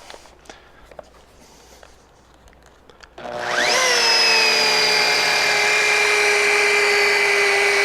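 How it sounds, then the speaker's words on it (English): A rotary polisher held flat on car paint spins up abruptly after a quiet stretch, settling into a loud, steady whine with strong tonal bands that holds to the end. "I always keep my polisher flat to the surface, and I have no pressure on it whatsoever"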